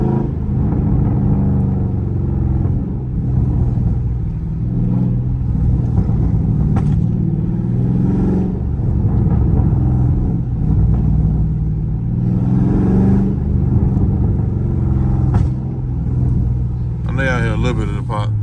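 A loud, deep Dodge Challenger Scat Pack engine rumbles and revs continuously up close while warming up, with a few sharp crackling exhaust pops near the end.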